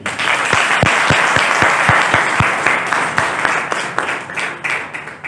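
An audience at a Hindi poetry gathering breaks into loud, sustained applause, with distinct sharp claps standing out early on before the clapping thins into scattered bursts.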